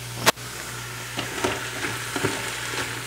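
Diced leeks and onions sautéing in a pot on saute mode crackle with a soft continuous sizzle, broken by a sharp clack near the start and a few light stirring scrapes, near and steady under a low hum.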